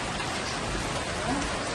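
Rain falls steadily outside a small sweet corn shop, a soft, even hiss of drops on surfaces with no breaks, fairly quiet and constant from start to finish.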